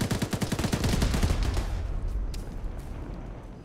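In the ArmA military shooter, a rapid burst of automatic gunfire rattles loudly for about two seconds, then trails into a rumbling echo and distant shots.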